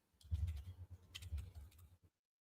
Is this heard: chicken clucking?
no